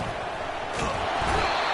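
A dense, steady roar of a football stadium crowd cheering as the home fans try to keep the opposing offense pinned deep in its own end, loud and continuous throughout.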